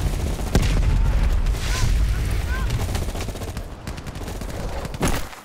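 Gunfire in a Vietnam-era jungle firefight in Call of Duty: Black Ops Cold War, with crash survivors fighting off a VC attack: dense overlapping rifle shots and automatic bursts, heavy booms and sharp cracks, with voices shouting amid the battle.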